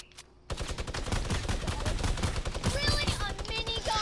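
Minigun firing in an online shooter video game, a dense continuous burst of rapid shots lasting several seconds after a short pause, loud and sustained, with game effects layered on top.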